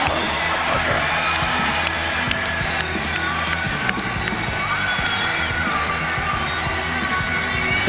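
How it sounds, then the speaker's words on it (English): Crowd at an NCB featherweight title fight cheering their new undefeated champion: a steady, dense roar that holds for the whole stretch, with voices mixed into the noise. "The crowd on their feet there for their new champion."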